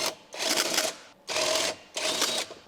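A ratchet with a 10mm socket loosens a subframe bolt on a Ford Escape, giving three close, loud bursts of rapid clicking separated by short pauses.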